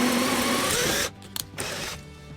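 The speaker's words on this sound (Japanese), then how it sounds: "なぜなら例えばこの板に貫通穴を開けるとします" A power drill bores a through hole in a wooden board. A loud, steady motor whine holds for about a second and then cuts off, leaving a few faint clicks and knocks.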